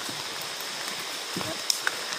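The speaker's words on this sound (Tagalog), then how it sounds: "Nabasa na naman sa ulan." Steady rain patters outdoors in a soft, continuous hiss, with a couple of sharp drips or taps standing out near the end; no speech rises above the wet wash.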